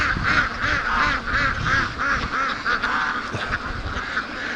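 A flock of free-range ducks near a lake quacking repeatedly in a steady, pulsing chorus, close by and fairly loud with no pauses.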